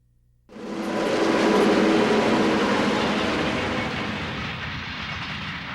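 A Southern Pacific passenger train running along the San Pablo Bay shoreline sets up a loud, steady rumble that arrives suddenly and holds, then slowly thins out as it rolls on. No voices.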